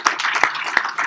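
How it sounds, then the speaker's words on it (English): Scattered hand claps from a small lecture-hall audience, a handful of sharp, uneven slaps spread across about a second, moderately quiet and with no voices over them. "Who knew that you would get applauded?"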